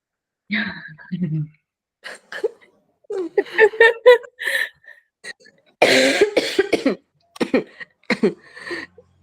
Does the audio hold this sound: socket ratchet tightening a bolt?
no